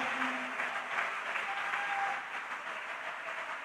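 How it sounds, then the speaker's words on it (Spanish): A church congregation applauds during a lively Spanish-language worship service, a steady roar of many hands clapping at moderate distance that eases slightly toward the end. "Hágale ese aplauso fuerte al Señor."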